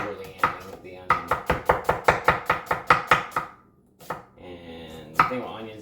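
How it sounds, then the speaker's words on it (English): A knife julienning an onion on a cutting board, about a dozen crisp, evenly paced chops in a quick rhythm, then a pause and a few more scattered cuts, close and clear with no talking. "then cutting, or just julienning the onion"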